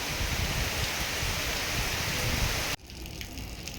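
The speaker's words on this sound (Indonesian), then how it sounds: "Kita lanjutkan setelah hujan reda" Steady heavy rain falls at a tea plantation, a dense continuous wash of drops heard close, then cut off abruptly to a quieter background near the end.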